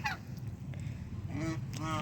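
Geese honk nearby in a few short, nasal calls, with a low background rumble underneath.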